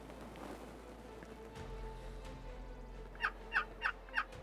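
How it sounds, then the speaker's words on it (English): Wild turkey gobbler, a male bird, gobbling outdoors in four quick, fairly clear bursts near the end, following a stretch of low wind and ambient rumble. "Our hens are very vocal, our gobblers are very vocal, and our gobblers are very aggressive."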